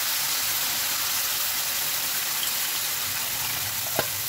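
Boiled dal tipped into hot spices frying in a pan, giving a steady loud sizzle and hiss that continues evenly throughout with no talking.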